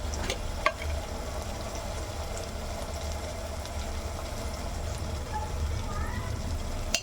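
Chilli powder and coriander powder are stirred into a vegetable pulao in a pan, with a steady, moderate sizzle and occasional scrapes of the spoon throughout.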